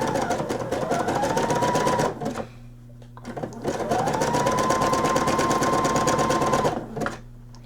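A sewing machine stitches lace trim on a nightgown in two long, loud, close runs with a rising whine, separated by a short pause with a low background hum.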